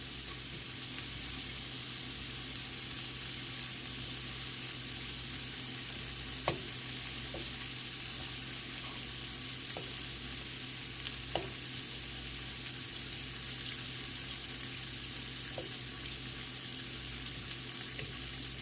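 Shrimp frying in a pan for tacos give a steady, continuous sizzle at moderate level, with a few faint clicks and taps scattered through it and no voices.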